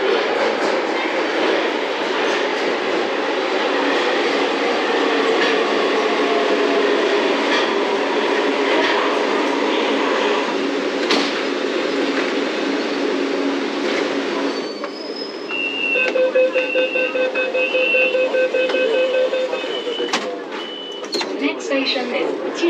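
A Beijing metro train runs steadily, a loud continuous rumble of wheels on rail with faint squeals and clicks, the noise dipping briefly as tones and a recorded announcement sound near the end.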